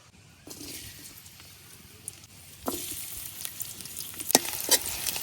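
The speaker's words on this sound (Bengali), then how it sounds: "পেঁয়াজ রসুনটা হালকা ভাজা হয়ে গেছে" Garlic and chopped onion fry in oil in a wok, a steady close sizzle that swells louder midway, with stirring scrapes and a few sharp spatters near the end.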